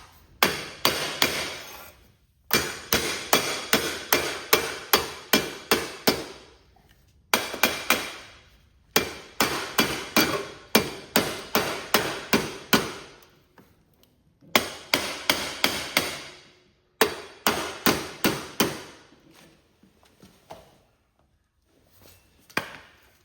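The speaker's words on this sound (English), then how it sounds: "we might have to tap on it just a little bit to break it loose" Someone raps a hammer on the muffler of a Cub Cadet lawn tractor with a Kohler KT17 engine to break it loose. The sharp metallic strikes come close together in quick bursts of about a dozen, with short pauses between bursts.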